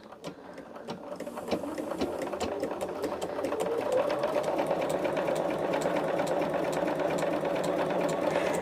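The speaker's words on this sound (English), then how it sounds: "I'm going to take this opportunity to get a little sewing done." A sewing machine stitches quilt squares at a steady, rapid whir that speeds up and holds a constant drone, close by and without speech.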